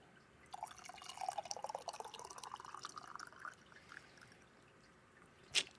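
Coffee is poured in a thin stream into a cup, a soft close trickle rising in pitch as it fills, followed by a single sharp clink near the end.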